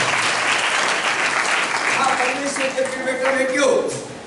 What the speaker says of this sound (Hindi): जोरदार ताली बजाओ इसके लिए।